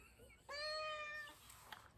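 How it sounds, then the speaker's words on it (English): A small cat gives a single short, soft meow in an otherwise quiet room, clear and close, followed by a brief faint noise. "I wonder if the mic picked that little meow up, because that was really cute."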